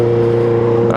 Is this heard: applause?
no